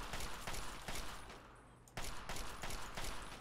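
Gunfire from the video game Fallout 3 rattles in rapid, repeated bursts of sharp shots, a brief lull in the middle before the volley resumes, fairly quiet overall with no speech.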